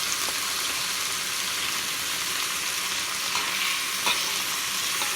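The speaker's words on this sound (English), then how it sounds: "Then you're going to mix. Let it fry a little bit with the" Milkfish fries in a pan with spices, giving a steady bright sizzle with occasional stirring scrapes, close and alone.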